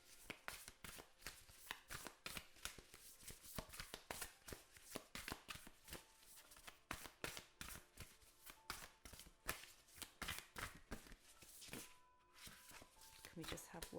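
Tarot cards shuffled by hand, a rapid run of crisp riffling and slapping bursts with short pauses between them, heard close up and fairly quiet.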